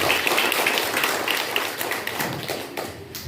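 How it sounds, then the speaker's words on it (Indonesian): A crowd claps continuously, a dense patter of many hands that gradually thins toward the end. "Tepuk tangan dulu buat BKKBN"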